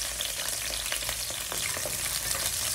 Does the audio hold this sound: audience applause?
no